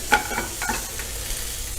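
Beef searing in an oiled pan, a steady faint sizzle with a brief clatter of stirring near the start, close and alone without talk.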